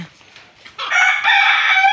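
A rooster crows loudly and close among Fayoumi laying hens, a long strained call following some brief soft clucks.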